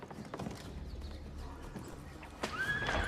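Horses from Assassin's Creed Revelations, with hooves galloping under a steady noisy battle backdrop and a loud whinny rising near the end; no one speaks.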